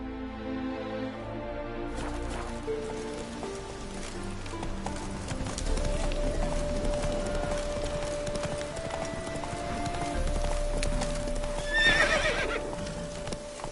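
Horse hooves clip-clopping and a horse whinnying in The Witcher 3: Hearts of Stone video game, heard steadily and close over game music, with a louder whinny near the end.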